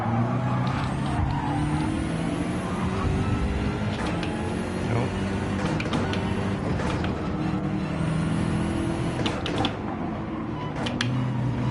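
A Porsche race car roars steadily through a racing video game, its engine droning continuously with shifting pitch throughout, joined by occasional sharper transient bursts.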